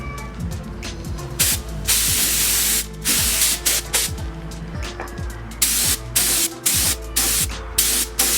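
Car wheels being spray painted: repeated close, loud hissing bursts of a spray can start and stop in an uneven rhythm, each lasting about a second, with no talk.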